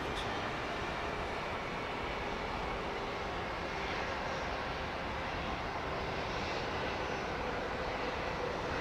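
An airliner's jet engines spool up on a runway at London Heathrow, making a steady, dense roar that holds at an even level throughout, with no talk.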